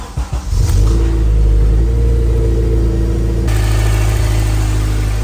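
A Honda K24 engine in an FA5 Civic Si cranks briefly, catches and runs loud and close, a deep steady roar with the revs shifting partway through.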